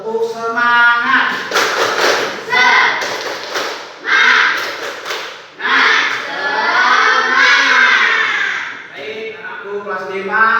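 A primary school class of fifth graders performs a spirit-clap chant, children's voices calling out in unison between rhythmic bursts of group clapping, loud and close, with a long sung phrase in the middle.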